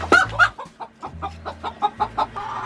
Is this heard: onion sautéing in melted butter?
no